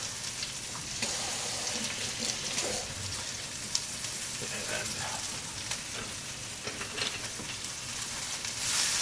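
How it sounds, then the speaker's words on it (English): Chopped onion with a pinch of salt sizzles steadily in a hot pan, a dense crackling hiss that runs for the whole stretch, with a few louder pops and scrapes as it is stirred. "And to that pan, I'm gonna add some onions."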